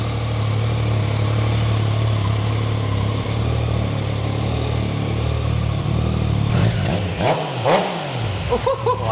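Motorcycle engine fitted with a modified exhaust, idling with a steady low rumble, then blipped in a few short revs toward the end, close and loud, with no talk.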